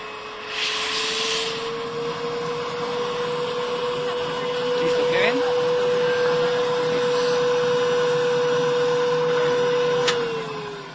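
Hi-Vol PM10 air sampler motor straining with its inlet blocked by a glove, a loud steady electric whine with a constant tone and broadband roar, a few brief rubbing and clicking noises over the top.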